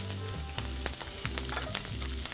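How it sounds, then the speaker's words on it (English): Arugula wilts in oil in a cold-started pan, giving a steady soft sizzle with light stirring and spoon clicks in a kitchen, with no talking. "And now I'm going to wilt my arugula."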